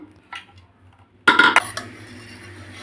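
A pressure cooker of boiled chickpeas is opened with a sharp metallic clank as the lid comes free, after a brief faint rattle, followed by a low lingering hiss of residual steam.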